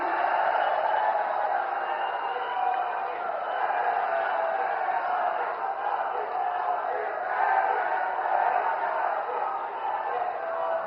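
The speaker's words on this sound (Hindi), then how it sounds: "आपकी जोरदार तालियों के साथ" A large crowd at an outdoor public rally for a prime minister's project inauguration in Kanpur applauds loudly, a dense, unbroken roar of clapping and cheering that holds steady for the whole stretch.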